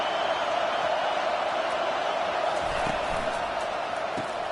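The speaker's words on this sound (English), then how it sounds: "this crowd trying to help keep them there" Football stadium crowd roaring to keep the opposing team pinned deep in its own end, a broad steady wash of distant cheering that fills the space without a break.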